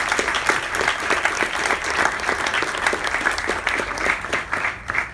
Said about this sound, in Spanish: Un aplauso para ella antes de seguir.